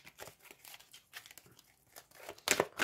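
Tarot cards being reshuffled, soft papery riffles and rustles coming in scattered bursts, quiet and close, with a sharper, louder flurry near the end and no talking.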